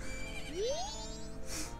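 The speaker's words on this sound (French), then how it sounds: "Avec Epona qui arrive" Epona, the horse in the video game Zelda: Majora's Mask, gives a single short, rising neigh over soft game music.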